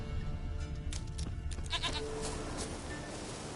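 A goat bleating in The Witcher 3 video game, a few wavering calls at moderate distance over a steady low ambient bed, with no talk.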